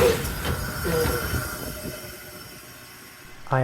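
A Metra BNSF commuter train pulls into Belmont station, rumbling and rattling on the rails with wheel squeal and hum, the noise easing as it slows, then a louder burst at the end.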